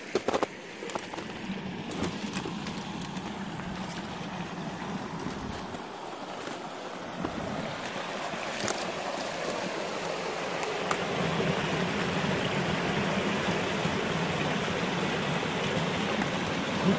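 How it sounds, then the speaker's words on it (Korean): Continuous rushing water of an icy mountain stream, a steady broadband flow that swells slightly louder toward the end, with no talking. "계곡의 물소리가 너무 듣기 좋습니다."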